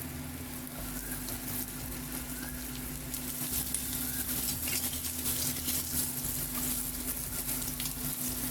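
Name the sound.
potatoes frying in oil for Bengali shukto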